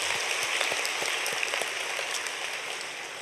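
A church congregation at a special early-morning prayer service applauding a married couples' team after their special song, a broad wash of clapping that holds steady and then slowly fades.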